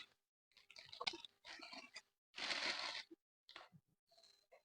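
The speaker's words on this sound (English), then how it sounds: "my pot of water is boiling. I'm using my mustard noodles. I'll quickly pour it into the pot" Dry mustard noodles are tipped into a pot of boiling water, giving a few short bursts of wet splashing, sizzling and bubbling that come close and fairly quiet, separated by brief pauses.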